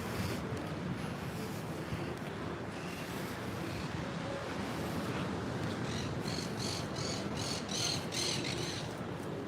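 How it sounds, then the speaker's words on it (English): Green parrots squawking in a city park in Spain, a flock's harsh repeated calls rising in the distance over steady outdoor background noise. "that's the famous green parrots"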